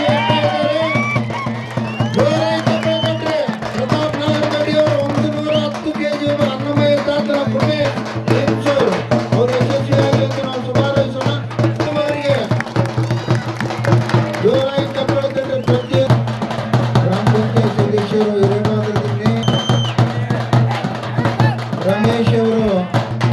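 Hundreds of spectators at a Sangrani stone-lifting contest in Manvi clap and cheer steadily for the athletes, a dense continuous crowd roar with music-like tonal layers running underneath throughout.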